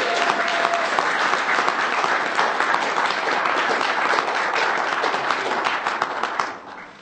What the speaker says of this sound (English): why don't you give yourselves a nice round of applause